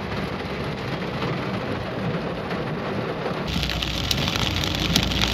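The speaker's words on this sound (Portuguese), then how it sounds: "a chuvarada caindo de novo" Heavy downpour over Porto Alegre during a summer storm, a dense continuous hiss of rain hitting surfaces that grows louder and closer partway through.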